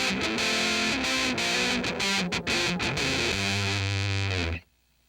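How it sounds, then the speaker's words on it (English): Thick, heavily distorted electric guitar through an Electro-Harmonix Holy Stain pedal's fuzz on a dark setting plays chords and riffs with a dark, fuzzy tone, ending on a sustained low chord that cuts off abruptly. "so you can hear just what the fuzz sounds like by itself"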